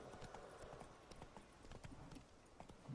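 Horse hooves clip-clopping in the video game The Witcher 3, a steady, quick rhythm of soft hoof strikes at moderate distance with faint background ambience.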